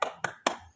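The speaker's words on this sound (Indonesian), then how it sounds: "tepuk semangat." Three sharp claps from a school class doing a rhythmic spirit clap, evenly spaced, close and fairly quiet.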